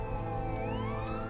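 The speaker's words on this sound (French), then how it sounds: "c'est la deuxième ambulance que je vois passer" Ambulance siren passing on a highway, a steady wailing tone sliding in pitch over constant road rumble, moderately distant and brief.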